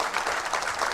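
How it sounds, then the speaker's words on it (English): Brief audience applause at a live climate policy panel, a dense patter of clapping lasting about a second with no talk over it. "That deserves a round of applause"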